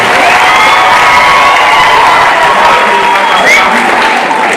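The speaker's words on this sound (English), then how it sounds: "Let us clap for him." A loud crowd claps and cheers at a university event in Mtito Andei honouring Kalonzo Musyoka, sustained applause mixed with whoops and shouts that stay high throughout.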